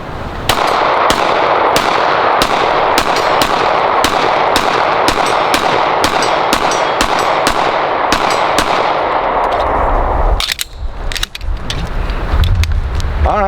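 A Sig Sauer P320 AXG Pro pistol fired in a rapid, evenly spaced string of sharp, loud shots at close range, followed by a few scattered shots and brief muffled noise.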